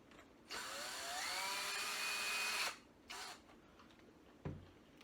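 A power driver tightens a screw into a turkey tail fan mount in one close whine lasting about two seconds that rises in pitch, then a brief second burst and a soft knock.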